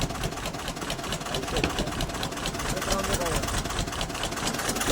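A boat's motor runs steadily nearby with a rough, continuous chug amid wind and water noise, while people talk over it.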